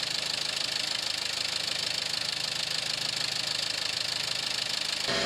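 A car engine idles steadily after starting during a cooling-circuit check, a constant close mechanical drone with a faint rhythmic knock that cuts off abruptly at the end.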